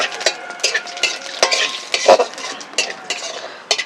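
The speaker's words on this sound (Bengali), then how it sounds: "এগুলো একটু ভাজা ভাজা হয়ে যাক" Whole cinnamon, cardamom, cloves and cumin seeds crackle in hot oil in a pan, a close sizzle broken by frequent sharp clicks and scrapes of stirring.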